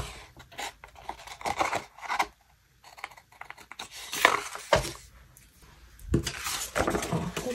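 Scissors trimming paper close by, short quiet snipping and rustling cuts coming in uneven clusters with brief pauses between them.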